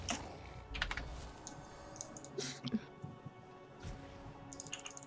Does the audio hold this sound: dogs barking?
no